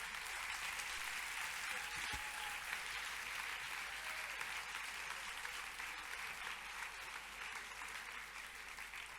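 Audience clapping at the end of a talk, a dense, steady wash of applause from a seated crowd lasting several seconds.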